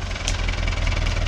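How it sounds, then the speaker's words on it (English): A tractor engine levelling a farm track runs steadily and loudly close by, a low rumbling drone with a rapid knocking pulse and no voices over it. "So he's trying to just level it out a bit more, running the tractor through."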